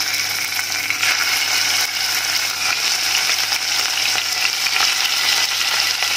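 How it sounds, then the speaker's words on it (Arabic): Meat fries in ghee in a pan, giving a steady, dense crackling sizzle throughout. It is close and fairly loud, with no voices. "هبتدي برضو انزل اللحمة عشان اشوحها"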